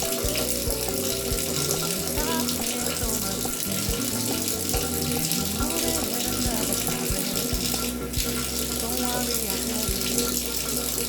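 Tap water running steadily into a sink, a continuous splashing rush that lasts throughout while someone talks over it.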